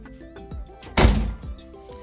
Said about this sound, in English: But now when I close the door,